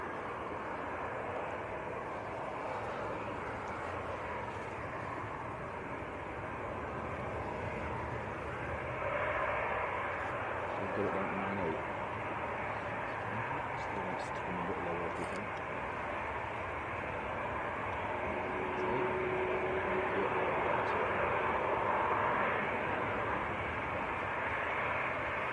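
Distant airliner noise at Manchester Airport as easyJet and British Airways jets move out, a low steady engine rumble that swells slightly midway and again toward the end, faint and far off.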